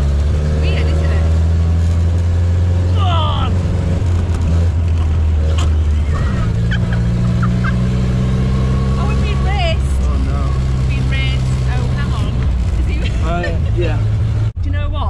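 Austin 12 car engine idling and running with a steady low rumble, stopping briefly before restarting, while people talk and laugh nearby throughout.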